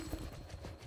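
Horses clip-clop in the Mount and Blade Bannerlord video game, a short burst of hoof steps under faint background noise and a low murmur of game sound.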